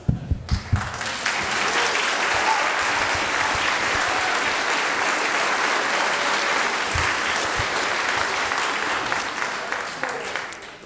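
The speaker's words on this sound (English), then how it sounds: "We can give him another round of applause." An audience at a spring orchestra concert breaks into sustained applause, a dense steady wash of clapping that follows a few loud opening claps and tapers off near the end. A voice speaks briefly at the start.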